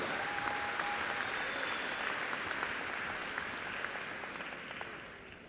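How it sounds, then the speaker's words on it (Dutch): Steady audience applause at a Dutch horse inspection show, honoring ring masters and handlers, heard as a dense, even wash of clapping from a sizable crowd that gradually fades toward the end. "Ja, mag gerust een applaus"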